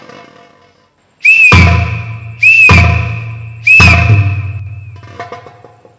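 Three loud, shrill whistle blasts sound one after another, each held about a second with a sharp rising onset, blown to wake sleeping men in a folk theatre performance, followed by faint rustling.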